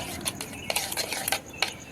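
Spoon scraping and clinking against a bowl while stirring thick yogurt mixed with milk and roasted spices, a rapid series of soft scrapes and taps close by.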